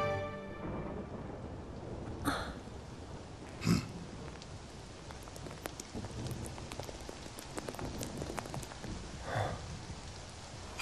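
Rain falls steadily in the video game Crisis Core, a dense patter of drops with a few louder gusts and crackles, heard alone at a moderate, fairly quiet level.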